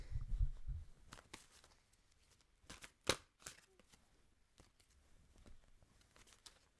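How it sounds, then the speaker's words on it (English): Tarot cards are shuffled close by in quick papery riffles and snaps, with a sharp crisp flick near the middle and softer shuffling afterward. "I have to put my mic down while I shuffle your cards and lay them out for you"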